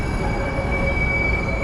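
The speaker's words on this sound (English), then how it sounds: "One last look at the CTA's Allstate Holiday Train." CTA Allstate Holiday Train on the Purple Line approaching Clark and Lake station, a steady loud rumble of rail cars with a sustained high wheel squeal running throughout, no voices.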